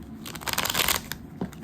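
Tarot cards are shuffled close up in a short burst of soft riffling and brushing, fading to a few light taps at the end.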